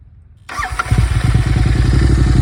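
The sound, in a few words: Royal Enfield Interceptor 650 motorcycle exhaust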